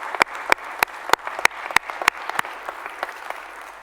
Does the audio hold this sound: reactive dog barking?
no